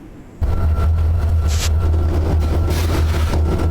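A steady, heavy low rumble from a freight train sound effect runs continuously after an abrupt start, with a brief brighter hiss partway through and no talking.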